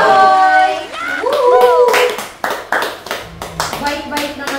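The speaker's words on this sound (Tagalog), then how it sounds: "Isang palakpak naman dyan!" Clapping follows after voices speak over tonal sounds in the first half, then arrives as a burst of sharp hand claps from several people with talk continuing faintly among them.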